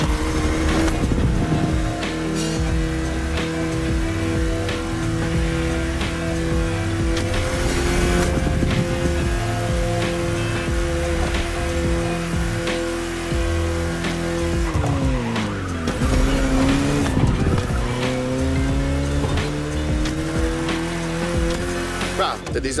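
Racing game car from The Crew Motorfest cruising at a steady engine drone with tires squealing in places, a continuous loud mix with music-like tones layered over it.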